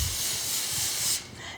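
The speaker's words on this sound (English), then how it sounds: "I'm just gonna spray my pan here." Cooking spray hisses onto a baking pan in one continuous close burst for about a second, then cuts off, leaving quiet kitchen room tone.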